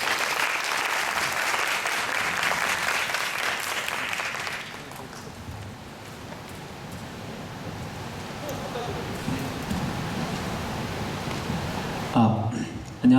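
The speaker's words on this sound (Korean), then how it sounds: "큰 박수로 환영해 주세요." Applause from a lecture audience welcoming a university professor to the podium, dense and steady for about four seconds, then fading into room murmur and shuffling, with a brief voice near the end.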